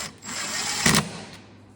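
A power drill briefly whirs while driving plastic screws into a Ski-Doo Gen 5 snowmobile bumper, one short burst that rises to a louder peak and then trails off, close by.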